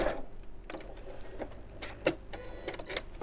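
A sewing machine stitches pieces of a half-hexagon cushion cover, a soft, steady run of quick mechanical ticks and whirs close by, with a few brief louder clicks and no talking.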